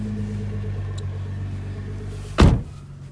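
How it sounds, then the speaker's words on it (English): Door of a Nissan GT-R opening, a single sharp latch-and-thud sound near the end over the steady low hum of the idling car. "this is how you open your door"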